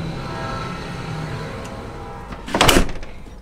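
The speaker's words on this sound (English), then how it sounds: "let me shut the door" A closet door in an Airstream Nest 16U trailer, in a cedar-lined closet, swings shut with a single loud close thump after a quiet stretch.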